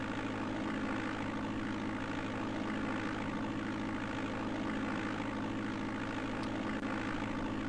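A steady, droning propeller-plane engine from the DOS game Flight Simulator 5.1 as the aircraft takes off from the runway, a continuous loud hum with strong low tones and no talk over it.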